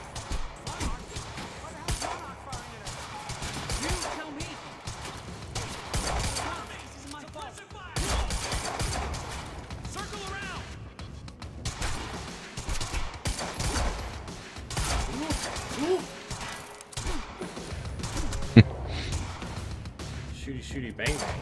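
Gunfire in the video game Quantum Break, repeated bursts of shots and impacts scattered through a busy game mix, with someone talking over much of it.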